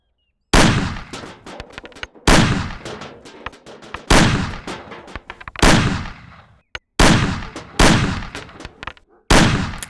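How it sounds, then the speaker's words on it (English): Pistol gunfire in the Mafia video game aimed at cans on a table, loud close shots in short bursts with ringing tails, separated by brief silent pauses. "Shoot the cans off of the table."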